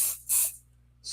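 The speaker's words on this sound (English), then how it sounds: "If you want to know what I'm using, I happen to be using iCraft's pixie spray." iCraft Pixie light-tack repositionable glue spray from an aerosol can, two short loud bursts of close hissing spray separated by a brief pause, followed by the start of a third.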